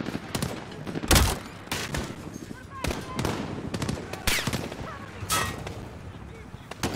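Gunfire in the video game Modern Warfare, Proxy War mission: sharp, irregular single shots and short bursts cracking at close range over quiet background rumble.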